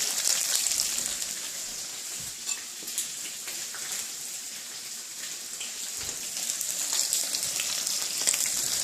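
Bacon fries in a pan with a dense, bright, continuous crackling sizzle and a few soft pops, close and steady throughout, no voices.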